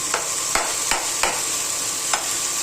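Bitter gourd (karela) frying in oil in a pan, giving a steady bright sizzle with about five sharp clicks of stirring spread unevenly through it, close and moderately loud.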